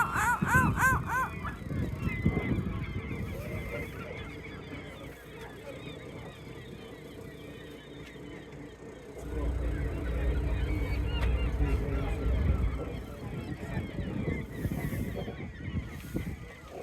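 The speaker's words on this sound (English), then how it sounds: "Really noisy bird, no?" Noisy geese or similar fowl honk repeatedly near a tour boat off Bar Harbor, the calls loud and overlapping against water and engine rumble, with low voices now and then.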